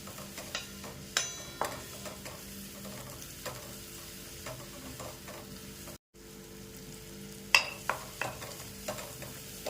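Hadga flowers stir-fried in a pan, with a steady quiet sizzle under scattered scraping and clicking strokes of a spatula, a brief dropout midway, then more sharp scrapes, no voices.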